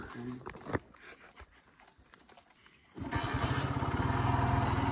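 Scattered knocks and rustling, then a hard-starting motorcycle's engine kicks in and runs with a loud, steady, throbbing idle.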